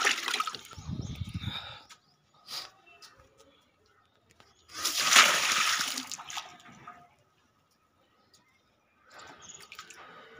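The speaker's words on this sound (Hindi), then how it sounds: "थोड़ा आगे से डालते हैं पानी" Water tipped from a bucket onto potted rose cuttings outdoors, heard as a few separate splashing pours broken by quiet gaps, each burst short and fairly close.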